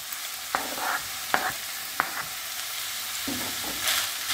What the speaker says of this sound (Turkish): Soğanlarımız eriyene kadar karıştırmaya devam edeceğiz.